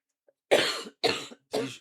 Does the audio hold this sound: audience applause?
no